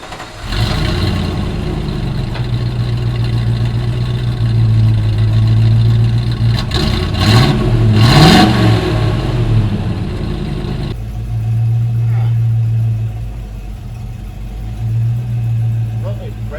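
A V8 engine fitted with a new budget exhaust starts up and idles with a steady low rumble and a brief rev in the middle, heard up close with a voice talking over it.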